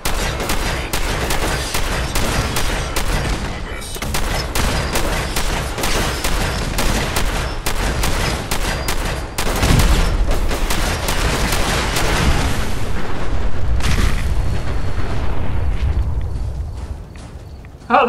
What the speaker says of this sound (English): Shotgun might do it.